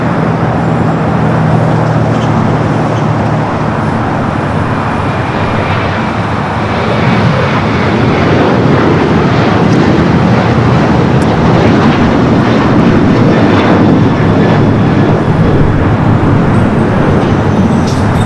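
A jet lines up on runway 24 left on the north side of LAX, giving a loud, continuous broadband engine roar that holds steady and swells slightly in the later seconds, with no voices.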